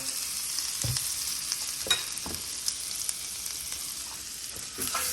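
Seafood sizzling in compound butter and olive oil in a hot pan for dirty fried rice, a steady close frying hiss broken by a few sharp scraping stirs and clatters, no voices.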